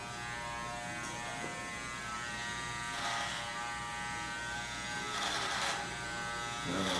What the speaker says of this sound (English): doing some clipper overcomb with no guard on it